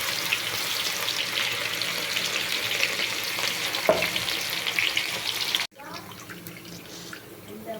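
Banana flower chilli fritters fry in hot oil, a steady bubbling sizzle with occasional crackles, close and continuous, then a sudden cut to a quieter, softer sizzle.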